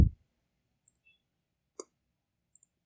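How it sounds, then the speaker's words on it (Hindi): Computer mouse button clicks: a few sharp, faint clicks spaced across a quiet moment, single and double taps at close range. "जैसे मैं बटन पर क्लिक कर रहा हूँ"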